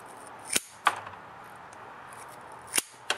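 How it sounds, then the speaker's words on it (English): Four sharp snips of scissors cutting through 5/16-inch inside-diameter rubber fuel line, spaced unevenly, two close together early and two more near the end, with quiet background hiss between. "I've been using them to cut fuel line with ease."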